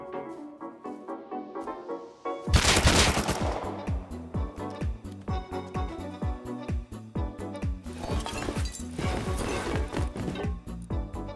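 Gunfire from a raid near the launch site in the video game Rust: rapid bursts of automatic rifle fire, sharp repeated shots in quick rhythmic runs after a quieter start, loud and close with faint background tones.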